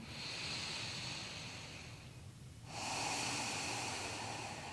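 Slow, calm, deep breathing during a pilates and yoga session, a long soft exhale followed by a fuller inhale, close and steady with no talking.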